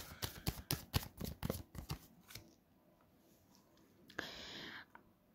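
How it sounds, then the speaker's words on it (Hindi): Cards are riffled and handled in a tarot-style reading, a quick run of crisp close flicks and snaps followed by a brief softer slide of a card drawn from the deck. "तो एक कार्ड और निकालते हैं।"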